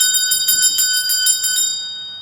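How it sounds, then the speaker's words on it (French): A small hand bell is rung at a networking masterclass to signal attendees to switch partners, about ten quick bright clangs in a steady rhythm, loud and close, then a ringing decay. "On a un son d'une cloche."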